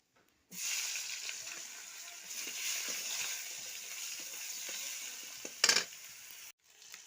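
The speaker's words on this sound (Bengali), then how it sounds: "টমেটোটা ভাজা হয়ে গেছে" Tomatoes fry in fish oil with nigella seeds, giving a steady, fairly quiet sizzle that starts abruptly, holds evenly for several seconds, flares briefly near the end, then cuts off.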